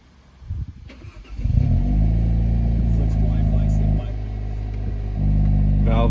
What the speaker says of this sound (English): let's prime the fuel pump, give her a start, cold start